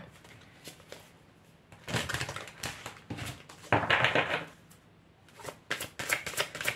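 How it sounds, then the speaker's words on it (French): Tarot cards being shuffled and drawn up close: bursts of papery riffling and flicking, soft taps as cards are laid down, grouped in irregular clusters with quieter gaps between, no talking. "Je vais maintenant tirer les cartes pour les célibataires."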